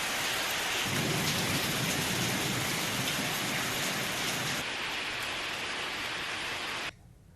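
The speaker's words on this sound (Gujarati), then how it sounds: "ત્યારે કડાકા ભડાકા સાથે વરસાદ વરસ્યો હતો" Unseasonal summer downpour with thunder in Banaskantha, Gujarat: a dense, steady hiss of heavy rain with a low rolling rumble of thunder early on, loud and close throughout until it cuts away abruptly near the end.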